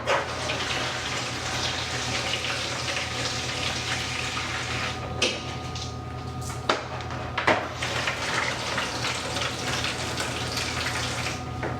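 Microgreen trays are bottom watered, with a steady rushing flow of water and occasional clunks of trays being handled, fairly close over a constant background hum.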